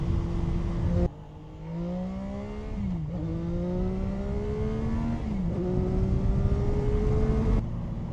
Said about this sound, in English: I'll let you guys just hear the stock exhaust.